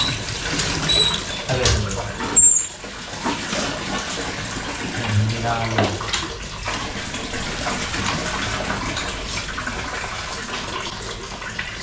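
Kitchen water tap running while fish is cleaned for sinigang, a steady close rush of flowing water lasting the whole stretch with a few brief splashy bursts early on; a couple of short spoken phrases come through.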